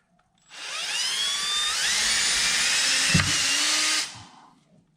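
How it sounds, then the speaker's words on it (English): A power drill with a 5mm bit whines up to speed and runs steadily for several seconds, its pitch rising as it bites through a hole for a kayak steering upgrade, then cuts off abruptly. "you take a 5mm drill bit and you drill 1 hole in first"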